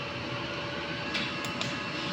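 A printer runs its head cleaning cycle with a steady mechanical hum and whir, plus a few faint clicks and brief hisses partway through, continuous and fairly quiet with no talking.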